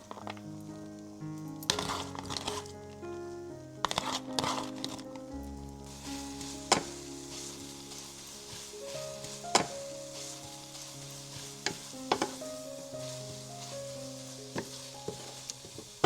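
Spring mix greens and spinach go into a frying pan with eggs and sizzle steadily, with scattered stirring clicks and utensil taps at close range, under background music and without speech.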